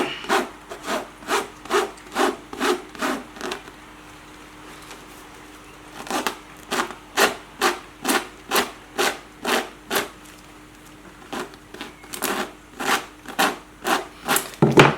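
Wood furniture being distressed with a serrated knife or shredder, rhythmic scraping strokes in close even bursts, with a short pause and a longer gap between runs.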